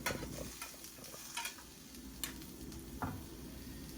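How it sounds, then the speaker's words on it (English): A mushroom sizzles steadily in a hot pan, a continuous close frying hiss with a few brief ticks and stirring clicks scattered through it. "The sizzling is sounding good, so I'm going to go ahead and get my mushroom flipped over"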